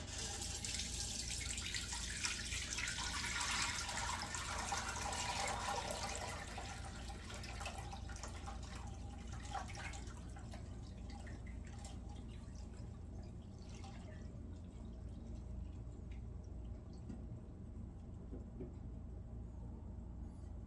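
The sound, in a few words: cowboy candy syrup being strained into a pot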